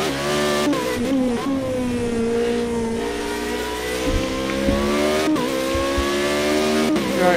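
Formula Renault race car engine on the Brands Hatch Indy circuit in a racing video game, a loud continuous whine rising and falling through gear changes with brief drops between shifts, steady and close throughout.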